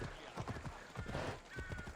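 Quick rhythmic horse hoofbeats clop along briefly at a brisk pace in Assassin's Creed Odyssey, fairly faint beneath a thin layer of background sound.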